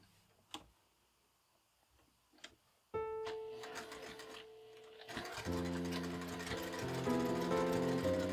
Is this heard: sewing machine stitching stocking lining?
yes